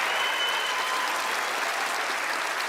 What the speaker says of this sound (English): let's give them a warm round of applause as they join me up onto the stage